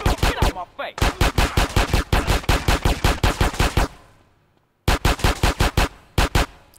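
Dual pistols fire in rapid bursts in Grand Theft Auto San Andreas Remastered, loud sharp shots in quick runs, a pause of near silence, then more short volleys.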